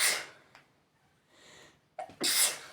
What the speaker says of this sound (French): et là, j'éternue